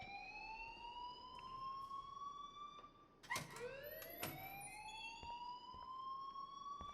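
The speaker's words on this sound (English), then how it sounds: "please turn off that alarm since that's your job" An alarm sounds in the video game Life Is Strange as a continuous wailing tone of rising sweeps that briefly break and restart midway, heard alone.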